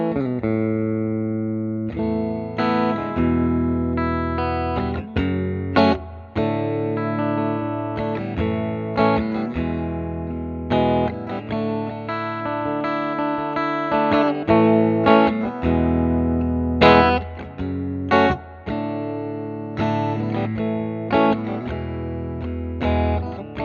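A Fender Custom Shop Strat electric guitar runs through a hand-wired Vyse tube amp on low input, with slightly gritty, crunchy tones. Strummed chords and single-note runs play close and loud, without pause, for over twenty seconds.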